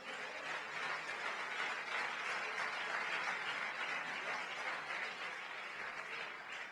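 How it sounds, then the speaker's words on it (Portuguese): Sustained applause from a church congregation, a dense steady wash of clapping that fills the whole clip at an even level with no talk over it. "Dê uma salva de palmas ao Senhor."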